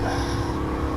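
Dodge Charger SRT Hellcat being driven on a track, its engine a steady, loud, low rumble with a fairly constant tone, close and continuous over a brief moment.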